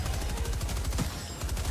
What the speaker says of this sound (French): C'est la mitrailleuse en fait.